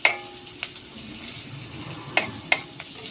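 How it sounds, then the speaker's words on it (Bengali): Sliced onions frying in oil for biryani beresta, a soft steady sizzle broken by a few sharp clicks and spatters, fairly quiet and with no voices. "এই বেরেস্তাটা আমরা ভাজতে শুরু করে দিয়েছি।"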